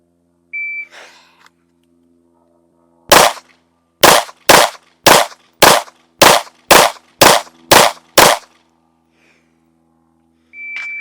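Ten sharp Glock 19 pistol shots ring out loud and close in a timed drill, spaced about a second apart after a draw, with a shot-timer beep at the start and end.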